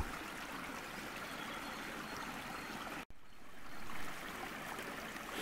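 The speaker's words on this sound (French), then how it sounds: "il y a de l'eau là qui vient des bois et qui part par là vers le fond de la vallée là" A small stream flows out of the woods in dry Ardennes countryside, a steady broadband trickle and rush heard fairly close with no talk.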